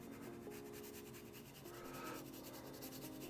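Oil paint is scraped onto canvas while painting a tonalist landscape, a faint, soft rubbing and dragging texture that is quiet and continuous.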